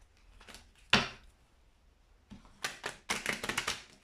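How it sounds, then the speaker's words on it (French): Tarot cards being drawn and handled up close: a sharp snap, then a quick cluster of soft flicks and taps in a quiet room. "Alors, je vais tirer quelques cartes."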